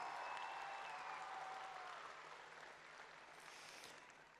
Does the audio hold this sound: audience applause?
yes